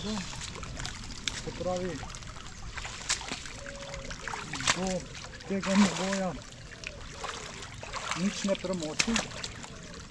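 AKU KS Schwer 19 GTX tactical winter boots wade through water, giving soft sloshing splashes and trickles at close range while someone talks over them throughout.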